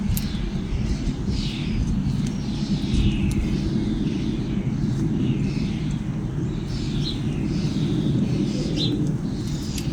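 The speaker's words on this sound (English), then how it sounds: "Can hear the birds at the back of my garden going crazy." Birds in a back garden chirp and call in scattered faint bursts over a constant loud low rumble that dominates throughout.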